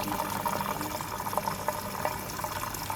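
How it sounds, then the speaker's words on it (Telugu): Water flows and splashes steadily into an IFB front-load washing machine as it fills, a constant close rushing with faint gurgles and no voices. "వాటర్ సౌండ్ వస్తూ ఉంది కదండి"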